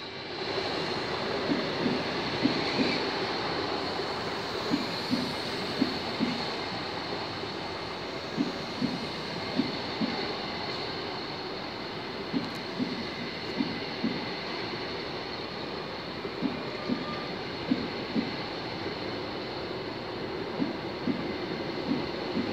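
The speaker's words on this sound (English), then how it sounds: "Gradually coming into the distance into Stowmarket this evening is your once again 1934 Greater Anglia service to Norwich." Greater Anglia passenger service to Norwich arriving at Stowmarket station in the evening, a steady rumbling roll with rhythmic wheel clicks over rail joints, moderately distant, with no voices.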